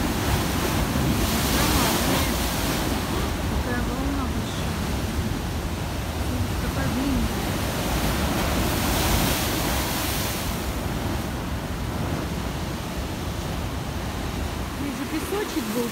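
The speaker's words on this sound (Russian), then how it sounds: "Такие большие волны." Large storm waves break and surge continuously on a Black Sea pebble beach at Alupka, with steady roaring surf and wind buffeting the microphone throughout.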